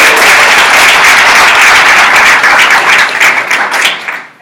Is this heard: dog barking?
no